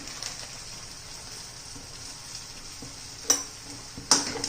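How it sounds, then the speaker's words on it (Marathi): Prawn masala with homemade fish masala and coriander powder sautéing in oil in a pan, a soft continuous sizzle with a few sharp spoon scrapes and clinks near the end, close and quiet. "ते पण छान असं तेल सुटेपर्यंत परतून घ्यायचं आहे आपल्याला"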